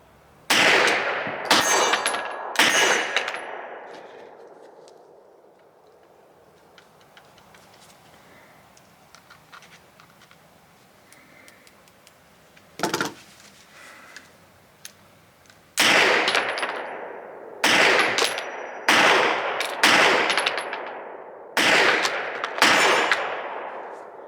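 A steel pistol fires at an outdoor shooting range in cold weather, with loud, sharp shots in quick clusters near the start and again toward the end, separated by a quieter stretch with a single isolated shot.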